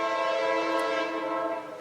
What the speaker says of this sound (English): make sure that's not my train, it's not, my train is not early